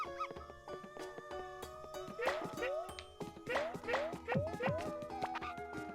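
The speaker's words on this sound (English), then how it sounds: "I heard a Poochie somewhere." Cartoonish dog barks and yips from a Poochie in the Yoshi's Crafted World video game, several short bursts mid-clip over bright chiming game music, with a voice talking over them.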